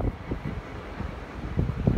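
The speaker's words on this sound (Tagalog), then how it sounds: "Mahangin, guys." Strong wind during a sandstorm in the Middle East, gusting and buffeting against the microphone in uneven low rushes that swell louder toward the end.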